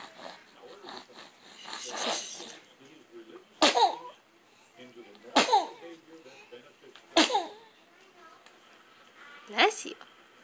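A small child with a little cold sneezes four separate times, each a sharp burst spaced a couple of seconds apart, close to the microphone, with soft fussing and breathing in between.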